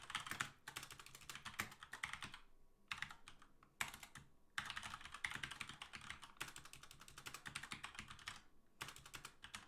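Typing on a computer keyboard clatters in quick bursts of key clicks with brief pauses between runs, faint and close, with no talking.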